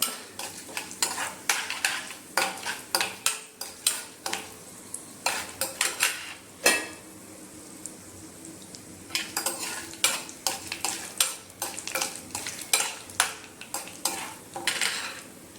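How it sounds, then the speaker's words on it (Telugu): Two dried red chillies frying with cumin seeds in a pan, a soft steady sizzle broken by repeated rhythmic clanks and scrapes of a spoon stirring against the metal. "ఒక 2 ఎండుమిర్చి వేగనివ్వాలి."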